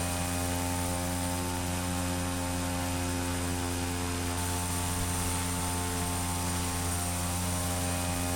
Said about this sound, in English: That's our plane, and that was South Haven.